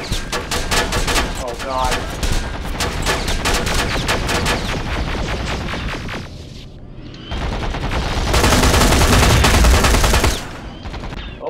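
Intense gunfire in Terminator Resistance, with rapid automatic bursts and booming shots that rattle loudly and continuously, briefly easing before a heavier barrage, while a player exclaims over the shooting.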